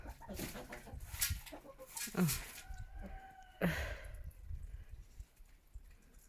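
Hens and a rooster clucking and squawking nearby in a backyard coop while being fed grass, with a few sharper calls standing out over steady background rustle and low noise.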